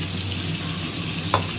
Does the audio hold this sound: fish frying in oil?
yes